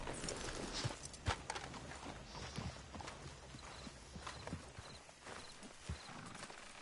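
Horse hooves clip-clopping at a trot in Red Dead Redemption 2, an irregular series of moderately close hoofbeats over faint background ambience.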